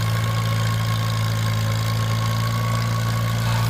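An old small tractor engine idles loudly and evenly up close, a steady low thrumming drone with faint knocking and no voices.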